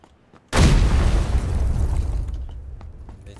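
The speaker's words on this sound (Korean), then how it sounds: "저 수류탄 제가 잘못 던진 거예요" Grenade blast in PUBG: a sudden loud boom after a brief quiet lead-in, followed by a long rumbling decay that fades slowly over a few seconds.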